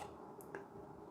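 A single right-button click on a Razer DeathAdder V3 Pro gaming mouse with Crispy V3 switches: one quiet, crisp, snappy tick close up in an otherwise still room.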